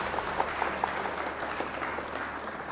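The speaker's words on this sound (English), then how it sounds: "Round of applause for Captain Crunch" Applause from a small group or crowd at a card-game event, a steady patter of clapping lasting a few seconds with a faint hum underneath, no talking.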